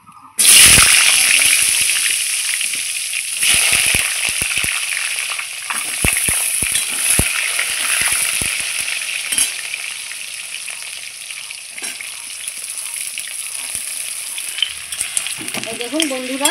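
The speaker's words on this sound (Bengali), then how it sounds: "এই পটলটা ভাজতে আমার 7 থেকে 8 মিনিট সময় লেগেছে।" Pointed gourd (potol) pieces fry in a hot wok, a loud steady sizzle that bursts up as they hit the oil and continues with occasional stirring scrapes, no voices.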